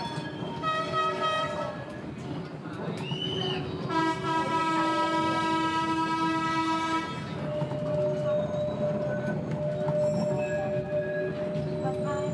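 A train in Cambodia pulls away with a blaring, shrill horn sounding in long repeated blasts over the steady rumble and clatter of the railcars, loud and close.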